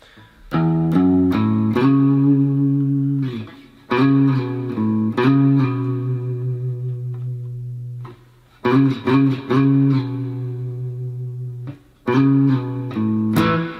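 Electric guitar picks out a short melodic intro lick from a song in separate phrases, with quick plucked notes, sustained tones and a sliding pitch move, clear and close with pauses between.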